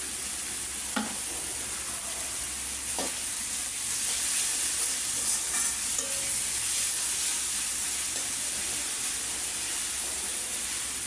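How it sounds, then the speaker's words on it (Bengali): Ginger-garlic paste and onion-green chili paste fry in a pan with a continuous sizzle and hiss. A few stirring scrapes and clinks cut through the sizzle, and no one speaks. "আমার আদা রসুনটা একেবারে ভালো করে ভাজা হয়ে গেছে।"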